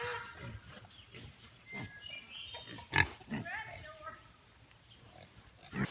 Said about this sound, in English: Here are our pigs.